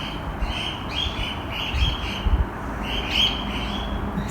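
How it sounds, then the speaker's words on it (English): Outdoor birds chirp and call in short bursts over a steady background hiss, with a few faint low thumps; no voices, moderate distance. "That's the birds."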